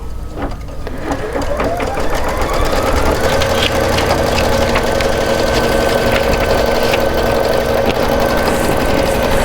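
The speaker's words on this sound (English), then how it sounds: "it is going to sew down all of your placement stitches for the rest of the project" A Kimberbell embroidery machine sewing placement stitches in gray thread, a loud, steady close mechanical hum with rapid needle rhythm and a sustained whine running throughout.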